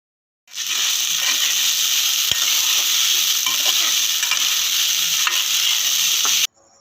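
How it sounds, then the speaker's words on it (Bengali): Sabudana tossed with peanuts and chopped coriander is stirred in a hot pan. Loud, continuous scraping and sizzling carries on for about six seconds, close up with no voices, then stops abruptly. "বাদাম আর ধনেপাতা দিয়ে সাবুদানাটা মিশিয়ে দেওয়ার পর এটা একদম পরিবেশের জন্য তৈরি হয়ে গেছে"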